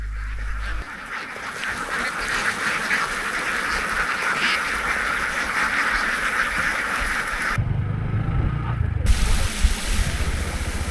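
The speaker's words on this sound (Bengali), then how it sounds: "খাবার দিচ্ছে হাঁসগুলোকে, আর হাঁসগুলো এমনভাবে ঘিরে ধরেছে যে বস্তা ছিঁড়ে খাবে।" A large flock of farmed ducks, about two thousand on a wetland, quacks loudly and continuously while being fed from a sack. The dense chorus is close and steady, with faint voices in the background.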